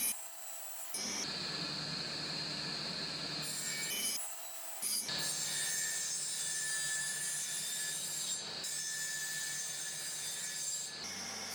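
Table saw blade ripping through a wooden bar to cut a tenon for a sliding window frame, a continuous raspy grinding in long passes broken by brief pauses, loud and close with no talk.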